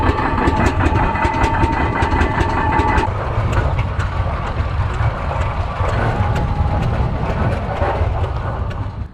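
Engines of vintage tractors idle before a tractor parade, with a steady low rumble that continues throughout and a tonal whine over it in the first few seconds, fairly loud and without speech.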